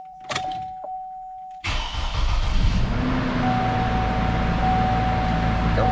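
A car engine cranks and catches after a snapped spark plug repair, then settles into a steady, rough idle close by. A short whine and faint knocks come before the start.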